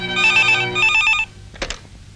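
An old-style telephone bell rings in two quick rattling bursts, loud and close, followed by a short clatter like a handset being picked up.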